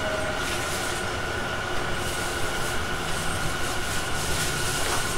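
Interior running sound of a Tobu 50050 series electric train, car MoHa 58055, on a Kasukabe to Kita-Senju express run: a steady loud rolling rumble and motor whine with track noise, continuous throughout.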